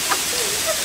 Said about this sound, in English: this is waterfall